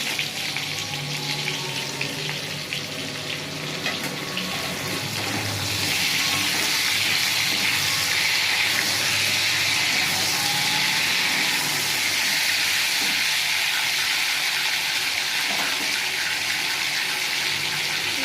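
Chopped tomato goes into a hot pan of frying ridge gourd and rohu fish for jhinge alu rui macher jhol, raising a steady close sizzle that grows louder and denser after a few seconds and holds without talk.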